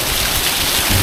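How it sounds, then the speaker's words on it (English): Heavy rain pouring down in Austin, Texas, overwhelming a rainwater collection system, a dense continuous roar of water close by with no voices. "have some rain here in Austin."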